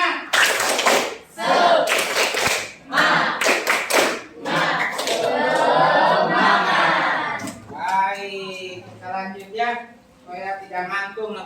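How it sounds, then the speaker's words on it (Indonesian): A group of children chant and clap a rhythmic spirit clap together, with bursts of sharp synchronized claps between shouted, sing-song calls, loud and close in a classroom. "Oke, tepuk semangat."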